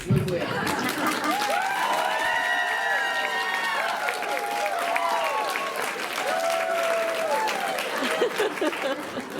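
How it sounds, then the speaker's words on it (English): A large audience at the Tupelo Elvis Festival 2019 kickoff applauds steadily throughout, with scattered cheers and murmurs carrying over the dense clapping. "So just applaud as I walk back across the stage."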